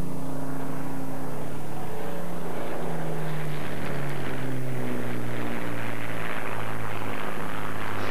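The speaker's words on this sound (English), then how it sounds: "the twin stars of the show were the two fairy swordfish wartime naval torpedo bombers" Fairey Swordfish wartime naval torpedo bombers fly past, their radial-engine propeller drone loud and steady, with a pitch that slides downward as they go by.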